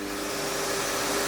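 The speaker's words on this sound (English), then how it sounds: "I'm going to turn this Hoover on." A Hoover vacuum cleaner running indoors, a steady loud broadband whoosh with a constant motor whine, close and unbroken throughout.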